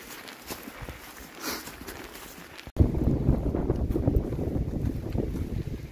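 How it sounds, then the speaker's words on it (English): Wind gusts of 30–35 mph batter the microphone on a hiking trail, jumping suddenly from a light breeze to a loud, rumbling roar that keeps buffeting without letup. "Very windy. Especially wind gusts of 30-35 mile an hour."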